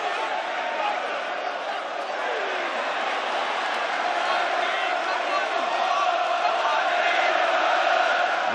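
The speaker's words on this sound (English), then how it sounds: "Look at the crowd." A packed boxing arena crowd roars continuously during the Dave Allen vs Arslanbek Makhmudov fight, a dense sustained wall of cheering and chanting from all around, with a commentator's voice faintly beneath.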